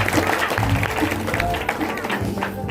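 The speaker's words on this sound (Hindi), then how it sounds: "करके उनका ताली बजाते स्वागत करेंगे।" A church congregation claps together in welcome, a dense, steady wash of applause with a low crowd murmur running through it.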